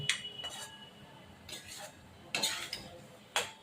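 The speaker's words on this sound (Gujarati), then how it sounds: "હવે આપણે એને હલાવતા રહીએ. ધીમે તાપે કરવાનું છે." Urad flour is stirred in ghee in a pan over low heat: a spoon scrapes and clinks against the metal in short, irregular strokes, fairly quiet against a soft background.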